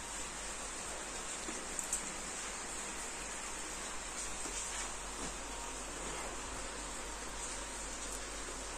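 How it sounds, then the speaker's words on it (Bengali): Steady rain pours down in a continuous, even hiss with no break or voices, filling the whole stretch like a dense wash of falling water. "বৃষ্টি পড়ছে কি করবো"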